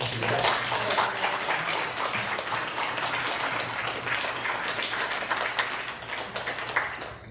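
A church congregation at a Sunday service applauds the pastors in warm, sustained clapping that fills the room steadily and loudly for the whole stretch, with no voices breaking through.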